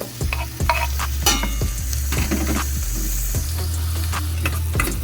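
Chopped tomato goes into garlic sautéing in a pan for mussel soup with malunggay, giving a steady close sizzle broken by repeated scraping stirs of the utensil against the pan.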